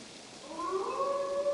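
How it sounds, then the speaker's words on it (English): A wolf in Assassin's Creed Valhalla lets out a long, rising, wavering howl, loud and fairly close, alone over a soft steady game ambience. "Oh, that is not the sound of a dog, Ira. That is a wolf."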